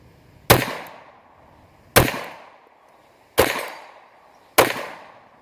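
Four sharp gunshots from an FN Browning 1910/23 pistol in .32 ACP, evenly spaced about a second and a half apart, each a loud crack with a short decaying tail, no talking.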